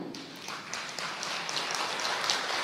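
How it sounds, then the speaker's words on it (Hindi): A meditation group claps together in a room, a soft, patter-like spread of many hands with scattered sharper claps, fairly quiet and continuous throughout. "तो चलिए एक बार ना थोड़ी सी ताली बजा लेते हैं अपन।"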